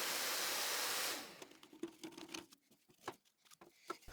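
A hand saw works through a 2x4 wood piece in one continuous cut, giving a steady close rasping that breaks into a run of short, uneven scraping strokes.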